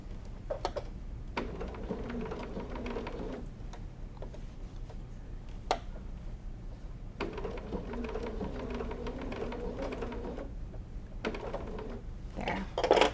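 A sewing machine stitching lace binding onto fabric in two short bursts of rapid, even mechanical whirring, separated by pauses with faint ticks and clicks; quiet and close, with no talking.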